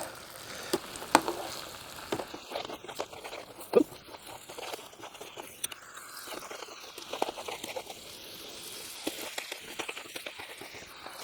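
Pasta aglio e olio sizzles steadily in a hot pan while being stirred, with scattered clicks and scrapes of the utensil over a continuous soft frying hiss.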